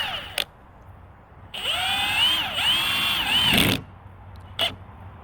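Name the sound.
Milwaukee M18 FUEL impact wrench running on lowest mode, slipping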